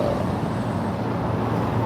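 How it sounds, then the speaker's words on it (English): Steady city road traffic noise in Los Angeles, a continuous low rumble of passing cars and trucks at moderate level, with no voices over it. "hopefully this traffic isn't that bad"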